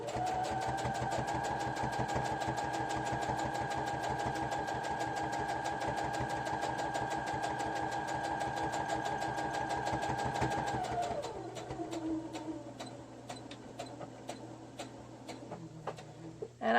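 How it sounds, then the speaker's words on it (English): A sewing machine stitches close to a fabric edge with a rapid, steady mechanical ticking and motor hum, running for about eleven seconds before slowing to slower, uneven clicks. "nothing beats a sewing machine when you want to get the job done"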